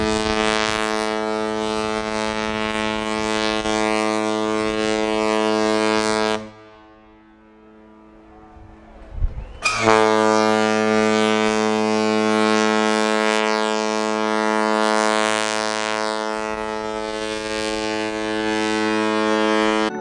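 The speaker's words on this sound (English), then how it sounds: "we thought our horn was broken as it was just blaring for 2 whole minutes" The Holland America cruise ship Koningsdam sounds its deep horn in Vancouver, a loud sustained blast lasting several seconds, then a short pause and a second long blast, with no voices.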